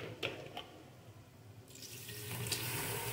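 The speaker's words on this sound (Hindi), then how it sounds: "इस पॉइंट पे मैं इसमें पानी शामिल करूंगी." Water pouring from a one-litre bottle into a pressure cooker while making cabbage gosht, a steady close splashing stream growing fuller toward the end.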